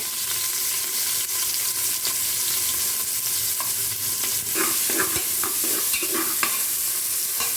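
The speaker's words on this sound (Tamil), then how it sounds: "நல்லா வதங்கட்டும்." Chopped onions sizzle steadily in a hot pan with ginger-garlic paste, a spoon stirring and scraping now and then, close and continuous with no talking.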